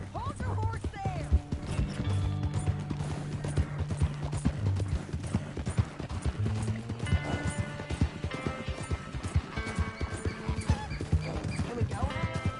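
Horse hooves clip-clop in Red Dead Redemption II, a steady rhythmic trot that runs under game music and spoken dialogue throughout.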